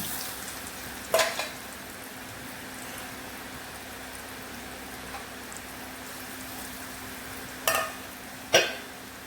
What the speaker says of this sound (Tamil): முறுக்கு தயார் பண்ணதை எண்ணெயில் போட்டுக்கிட்டலாம்